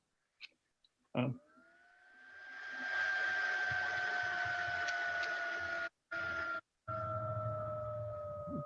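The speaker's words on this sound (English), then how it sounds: "it's probably the fan on my computer, which is kind of noisy" A noisy computer fan spins up after a couple of clicks, settling into a steady whirring drone with a tonal whine that holds for several seconds, briefly cutting out twice, heard close on a remote meeting call.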